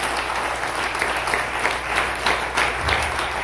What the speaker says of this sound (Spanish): Dele más fuerte ese aplauso al Señor.